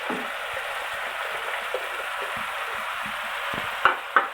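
Chicken and chakotra (pomelo) fry in a pan with a soft, steady sizzle, light stirring taps scattered through it and two sharper utensil clinks near the end.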